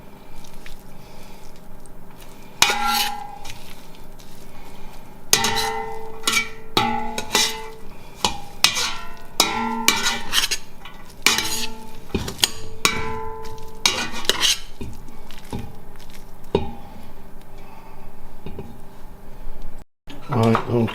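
Spaghetti is stirred in a pan to coat it before smoked salmon and watercress go in, giving wet squishing and sticky slapping sounds with scattered clinks of utensil against pan in an irregular rhythm, close up.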